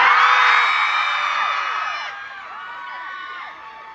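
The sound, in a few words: crowd shouting and cheering to be picked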